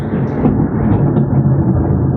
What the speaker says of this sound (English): Ketchup is in for a good game as it's thundering out there, brothers.